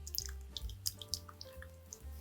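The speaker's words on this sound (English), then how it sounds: "we're gonna pour this right on top of our cut up ahi tuna" Sauce poured over cut ahi tuna for a poke bowl, heard as soft close liquid drips and splashes in a short uneven run.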